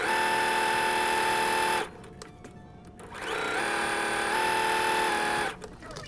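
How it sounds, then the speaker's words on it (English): A sewing machine stitches fabric squares with a quarter-inch seam, a loud steady motor whir broken by a brief pause before running again, then stopping near the end. "we're going to sew them on with a 1/4 inch seam, or a scant 1/4 inch"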